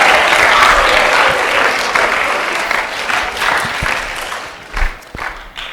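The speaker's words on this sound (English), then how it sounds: "give her a big round of applause as a good welcome" An audience in a school setting claps to welcome a speaker to an autism awareness talk: a loud, dense round of applause that thins out toward the end, with a few louder individual claps near the close.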